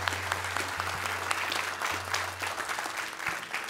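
A congregation applauds during a church service, dense steady clapping from many hands filling the room, with a low sustained tone running underneath for most of the burst.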